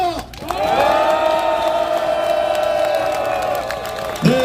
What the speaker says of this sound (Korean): 여러분들의 힘찬 박수와 함성으로